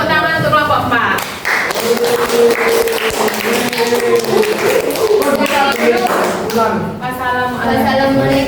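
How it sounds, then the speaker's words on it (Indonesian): Students applaud a group in a junior high school classroom, with a brief burst of clapping mixed with lively voices and chatter throughout. "Jadi tepuk tangan untuk kelompok 4."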